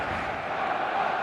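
A large stadium crowd in the eFootball video game roars before kickoff, a dense, sustained wall of cheering and chanting that stays loud and steady across the brief moment.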